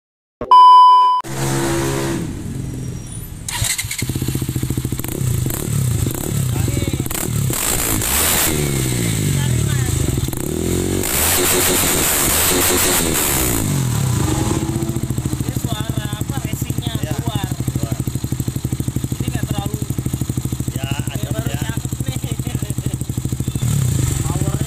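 A KTM Duke 200 motorcycle with an aftermarket exhaust and a double dB killer idles and revs loudly nearby after a few short beeps, its engine climbing and falling through several throttle blips before settling into a steady rumble.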